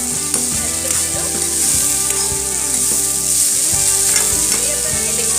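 Pieces of fried fish sizzling in a pan, a loud, continuous crackle of hot oil with scraping stirs every second or so, close up and without voices.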